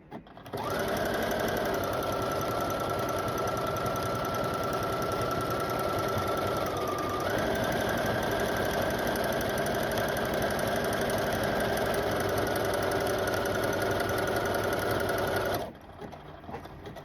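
A sewing machine stitches a buttonhole in one long steady whirring run of rapid needle strokes, close and loud, with a slight change in pitch partway through before it stops abruptly.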